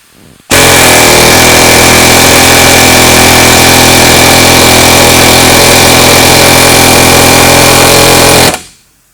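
Air hammer chisel hammering continuously in a sharp, buzzing rattle, loud and close, starting abruptly and stopping after about eight seconds, one of a Snap On, Mayhew or cheap Chinese model under test.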